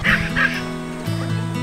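A dog gives a few quick, sharp barks and yips, close and fairly loud, over a short moment.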